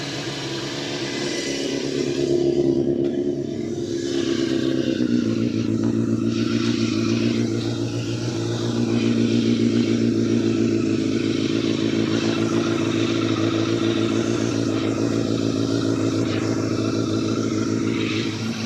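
A small engine, on a motorbike or mower, fires up from cold on half choke with fresh fuel and keeps running loud and close, a steady rough chugging with some revving swells throughout.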